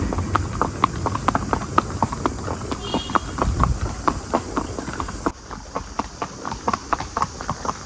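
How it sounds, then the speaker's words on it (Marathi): Horses' hooves clip-clop in a steady walking rhythm while riders travel through Matheran, each sharp hollow strike close and clear, with a faint voice briefly in the background. "आम्ही चाललोय घोड्यावरून बायकी हेरिटेजला."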